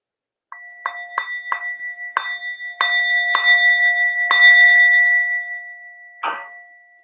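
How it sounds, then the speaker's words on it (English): A small meditation bell struck repeatedly during a body scan session, seven or eight clear ringing strikes that overlap into a sustained shimmering tone, then a final separate strike near the end, close and alone with no talk. "So I'm just going to ring my bell in a minute."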